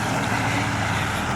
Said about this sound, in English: you can hear by the traffic that we're definitely getting to the downtown area now.